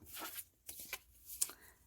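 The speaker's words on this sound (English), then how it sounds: "these cards, I'm just not shuffling the best today" A deck of tarot cards is shuffled in short riffling bursts, soft and close, with quiet pauses between the rustling passes.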